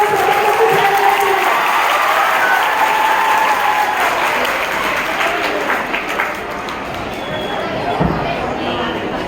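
An audience at a school Marathi Language Day event applauds students, giving loud sustained clapping from a large crowd with some murmuring mixed in that tapers slightly toward the end.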